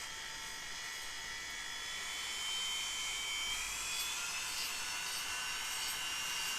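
A rotary tool spins a silicone disc against a copper ring, a steady high-pitched whine with a faint rubbing hiss underneath, rising slightly midway and continuing without pause.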